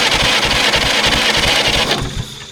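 A pony starter cranks the engine of a 1940s CAT D8 dozer that has sat unused for decades, a loud, steady, rapid chugging turnover with even beats that fades off near the end.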